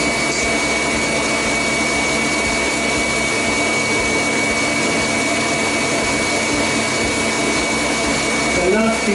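A stand mixer whisks Italian meringue buttercream with a loud, continuous whirring hum at close range that stays even for the whole stretch.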